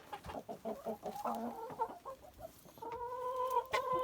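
Brahma chickens cluck in short, repeated bursts while eating porridge, close by and fairly quiet, with a few longer tonal calls toward the end.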